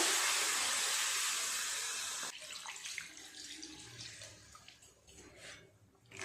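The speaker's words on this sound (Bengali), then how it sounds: "এক লিটার মতো জল আমি দিয়ে দিলাম" Water gushes into a pot of cooking chicken nihari in a loud, steady pour for about two seconds, then cuts off, leaving soft trickles and faint clatter.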